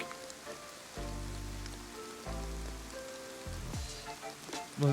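Steady rain hiss across a DayZ scene, with rain switched on in the editor's environment settings. A constant wash of drops runs throughout, while low tonal game sounds swell and shift beneath it.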